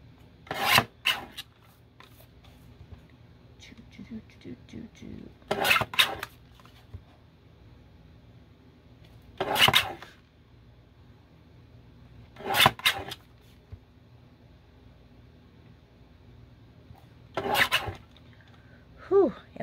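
Pieces of a twilight moth craft project being trimmed off by hand, heard as five short, separate rasping scrapes spaced a few seconds apart over a quiet room background.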